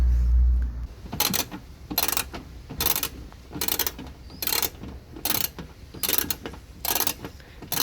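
A ratchet undoing screws on an Alfa Romeo 147 GTA wheel arch, heard as a regular series of short clicking bursts about once per second, close and fairly loud against a quiet background.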